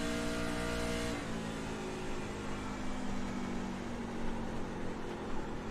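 A race truck engine at Darlington in a racing video game holds a steady, loud high drone, then drops sharply in pitch after about a second and keeps running at the lower note.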